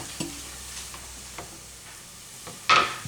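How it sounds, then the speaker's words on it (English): Onion hitting hot oil in the bottom of a pan for shepherd's pie, a soft continuous sizzle with occasional clicks and knocks of stirring, then a brief louder burst of frying near the end. "So the oil has started to sizzle in the bottom of the pan"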